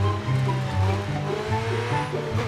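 Video-game car engine pulling away after being stolen, a steady revving drone with brief tire squeal, loud and close with no talking.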